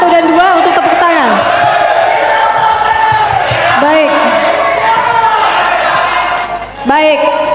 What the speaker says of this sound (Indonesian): Kami persilakan untuk para pendukung pasangan calon nomor urut 1 dan 2 untuk tepuk tangan.